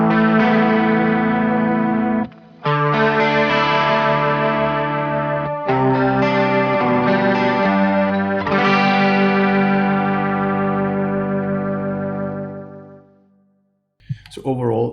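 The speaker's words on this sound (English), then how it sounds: "we now have the overdrive distortion selected, as well as the chorus, and let's just strum a chord here" Several strummed electric guitar chords through a Boss GT-1000Core ring out with gritty overdrive and a shimmering chorus effect, each sustaining and decaying, separated by brief gaps.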